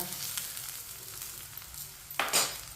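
A paratha fries in oil on a pan just after flipping, a soft crackling sizzle that settles low before a sharper burst of spattering near the end, close and quiet without speech.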